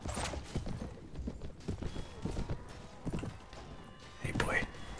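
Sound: horse hooves clip-clopping in the video game Floris

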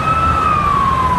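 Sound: fire engine sirens responding to a car fire

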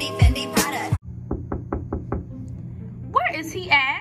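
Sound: knocking on a door

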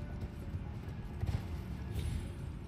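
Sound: horse galloping hoofbeats in video game Elden Ring

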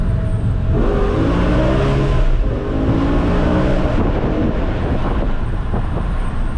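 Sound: BMW E60 M5 engine revving while driving

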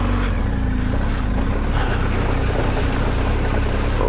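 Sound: vehicle driving through a water crossing

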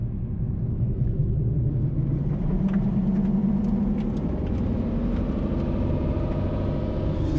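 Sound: 2023 Ford F-150 Lariat diesel pickup doing a burnout

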